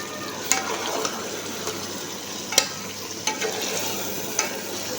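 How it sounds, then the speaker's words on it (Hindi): Chicken fries in masala for biryani, a soft steady sizzle in a pan with occasional stirring scrapes and clinks, faint and close with no talking. "इसमें मैंने चिकन ऐड कर दिया। अब इसको हम फ्राई करेंगे अच्छे से।"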